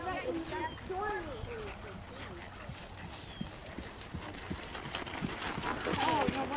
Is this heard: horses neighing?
yes